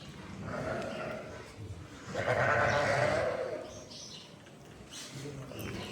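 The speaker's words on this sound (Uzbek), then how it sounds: "Mana qo'ylar qaranglar qancha." A flock of sheep bleats nearby, several overlapping wavering calls, one long loud bleat in the middle and others fainter around it, with some talk mixed in.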